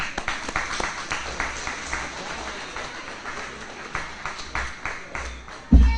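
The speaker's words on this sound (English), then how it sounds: "Everyone give a round of applause to Katan Alexander." A small audience claps in a modest, uneven round of applause, individual claps audible, ending with a loud bump.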